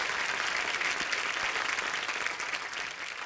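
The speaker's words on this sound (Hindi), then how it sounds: "जोरदार तालियां सबके लिए।" A studio audience on a Hindi comedy talk show claps in a brief, dense burst of applause, steady and lively from start to finish.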